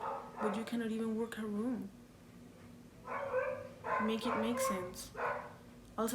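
Dogs bark and yip in the background of a home, the short barks scattered under a person talking close up.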